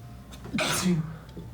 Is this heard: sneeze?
yes